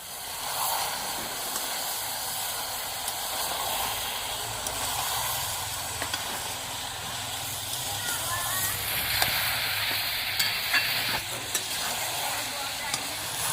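Mutton frying with red chilli powder and salt hisses steadily in a pan as it is stirred, with scraping strokes and a brief louder sizzle burst partway through.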